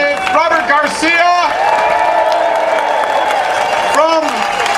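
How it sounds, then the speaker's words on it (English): Applause from a crowd at a May Day rally in Palm Springs sits under loud amplified speech, with scattered cheers and whoops rising through a steady roar of clapping. "Can we have a round of applause once again for Representative Robert Garcia"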